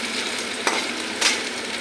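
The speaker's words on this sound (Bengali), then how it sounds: "পেঁয়াজটা হালকা করে ভাজা করে নেই।" Onion fries lightly in a pan with a bright, even hiss, broken by two brief stirring scrapes, close and steady with no voices.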